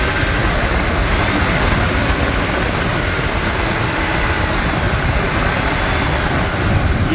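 A Ford 5.4 liter 2V engine revs up, a loud, dense, continuous roar that holds steady throughout with no talk.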